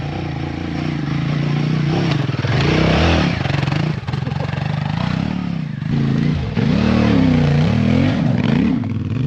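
A Royal Enfield Himalayan 450 and a CFMOTO 450 MT accelerating hard on a real-world road ride, loud, close engine drone rising and falling in pitch through gear changes, continuous with no talk.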